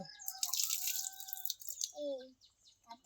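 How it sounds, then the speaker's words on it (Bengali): Water splashes and drips into a muddy bucket being washed outdoors at a home in the morning, with brief bursts and trickles over about three seconds and some faint sounds in the background. "বালতিটা ধুচ্ছ?"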